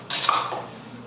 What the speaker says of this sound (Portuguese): Deixa eu pôr pra lá essa louça.